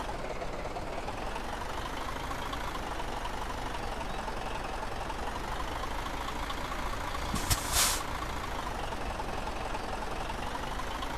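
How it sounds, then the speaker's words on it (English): A truck engine in Euro Truck Simulator 2 rattles and drones steadily at a constant pitch throughout, with a brief sharp hiss like an air brake release partway through. "It's nice to listen to the engine rattle."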